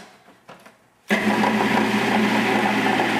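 A blender pureeing parsnips with cream and rosemary kicks on abruptly after a few faint clinks, then runs loud and steady with a constant whirring drone.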